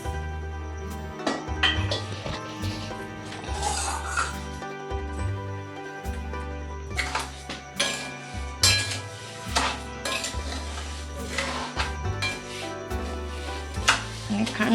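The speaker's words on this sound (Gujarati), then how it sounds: "એને ઓગાળવા માટે આપણે હલાવીશું" A spoon clinks and scrapes against a metal pan while sugar and water are stirred into syrup for adadiya pak, irregular clatter and knocks throughout, close and fairly loud, with no speech over it.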